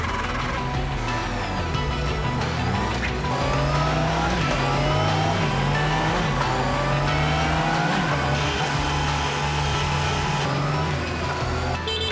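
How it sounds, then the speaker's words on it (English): A new Honda CBR motorcycle engine runs steadily and loudly on a factory test platform, its pitch rising and falling as it revs, with no voices. "each finished motorcycle is fired up for the first time and ridden onto a special test platform."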